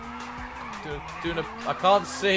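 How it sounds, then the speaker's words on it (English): A car drifting under handbrake in the racing video game Race Driver GRID, engine tone holding steady with bursts of tire squeal and skidding, while a person talks over it. "Use the handbrake to initiate drift."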